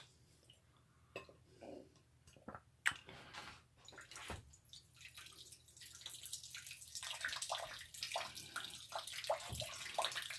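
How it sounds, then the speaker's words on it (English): Water gravity-feeding through a Mini Sawyer filter and dripping into a container: scattered close splashes and trickles that build into a denser, louder flow toward the end, with no talking. "I'm going to have it gravity feed into this container"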